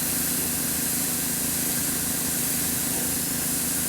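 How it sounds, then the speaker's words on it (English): A Badger airbrush sprays Stynylrez primer in a steady, close hiss with a low rumbling undertone that holds unbroken from start to finish, with no voices over it. "primer is just coming out too slow out of the airbrush"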